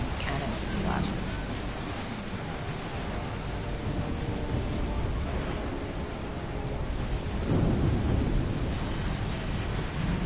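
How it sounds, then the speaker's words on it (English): A deep rumble of thunder from a lightning strike in the video game Assassin's Creed 3 rolls over a noisy, rain-like wash, with a heavier boom near the end; a voice is briefly heard beneath it. "Lightning strike."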